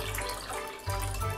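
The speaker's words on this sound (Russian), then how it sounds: "Берем кастрюлю, наполняем ее водой" A kitchen tap runs steadily into a metal cooking pot being filled for pork-bone ramen broth, the stream close and continuous with a brief dip before the flow resumes strongly.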